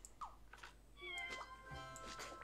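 Cartoonish cat meows from the Scribblenauts Unlimited video game, a few short tonal cries amid soft clicks and game sounds, fairly quiet and close.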